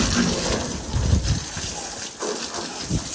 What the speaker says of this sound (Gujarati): હવાયું મારી દીધું ને હવે આપણે કરી દીધો પ્રેશર ચાલુ